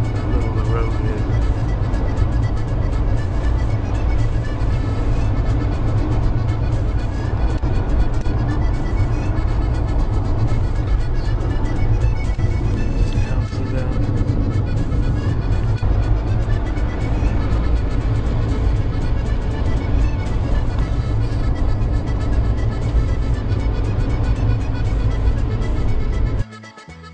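Steady, loud interior drone of a giant bus travelling a small road among mountains in Ireland, a continuous low engine and road rumble that holds unchanged before cutting off abruptly at the end.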